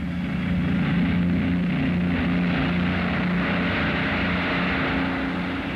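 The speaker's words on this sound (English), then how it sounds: "From many airfields, the huge transports take off." Large WWII transport aircraft taking off from an airfield in 1944, a loud, steady propeller-engine drone with a deep throbbing hum, sustained throughout with no voices.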